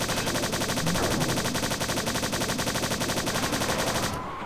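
A Templar fires the Mauler, a hitscan weapon in the video game Strife, in a loud, rapid, evenly pulsing stream of shots that runs for about four seconds before cutting off.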